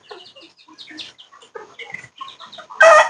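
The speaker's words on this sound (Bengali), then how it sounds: "এটা হচ্ছে দুইটা মোরগ, এখানে একটা মুরগি" Two desi roosters and a hen cluck in a cage, close by, with a string of short, choppy calls ending in a sudden loud, harsh squawk.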